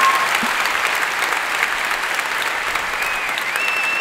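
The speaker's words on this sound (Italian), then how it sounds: "un applauso grazie. per Lundini che ci farà un balletto" A studio audience applauds for Valerio Lundini, a dense, steady wave of clapping that stays loud and continuous without a break.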